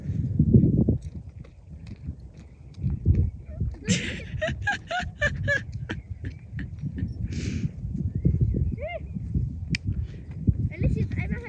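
A horse walks on a farm, its hooves clip-clopping in an irregular rhythm close by while people talk over it.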